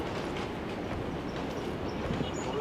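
Steady rumble of a moving train rolling along its tracks in the mobile battle royale game BGMI, a continuous dense mechanical drone with faint rhythmic clatter, close and constant throughout with no speech.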